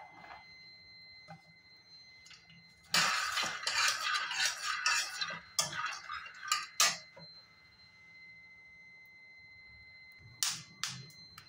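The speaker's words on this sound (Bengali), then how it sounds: "প্রথমেই বাদামটা একটু ভেজে নেব।" Peanuts dry roasting in a pan give sharp little pops and crackles with scattered scraping clicks, clustering into a busy burst midway before thinning out, faint and close against a quiet background.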